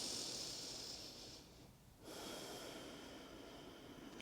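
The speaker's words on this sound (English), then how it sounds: "Take another deep breath in here" A slow, deep breath drawn in through the nose, soft and close, then a brief pause before a second airy breath continues, heard alone in a quiet room during a guided yoga session.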